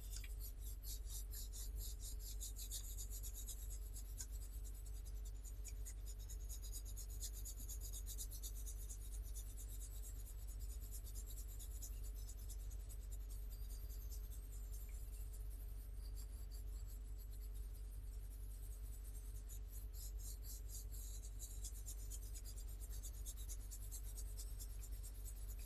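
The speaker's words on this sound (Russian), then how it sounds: "Дальше белый карандаш берем и белым карандашом закрываем вот эту часть." A white pastel pencil shades across paper in steady, continuous scratchy strokes, close and faint, with no talking over it.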